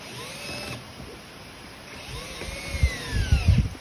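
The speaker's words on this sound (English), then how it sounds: "Just take a nut driver." A powered nut driver tightening a hose clamp on a wood-turning jig, its motor whining up and down in short bursts, then a louder stretch of rattling and buzzing near the end, all close and without talk.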